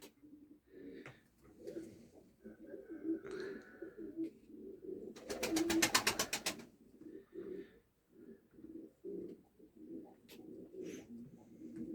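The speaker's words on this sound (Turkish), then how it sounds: "Kuşların birinden ses geliyor ama Hangisinden ses geliyor bilemedim." Soft repeated cooing of pigeons in a coop, low and throaty, with a brief loud fluttering burst in the middle.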